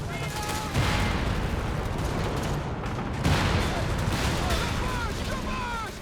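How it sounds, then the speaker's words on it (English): Dense gunfire rattles across the flank in Company of Heroes 3, with volleys of shots and booms layered over a steady battlefield din, loud and continuous, with voices talking beneath. "Shots on the flank."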